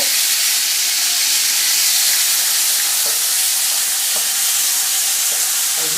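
Ginger, chilli and garlic sizzle loudly in hot oil in a wok for a Chinese takeaway-style curry, a steady dense hiss throughout with a few faint knocks as the pieces are moved about.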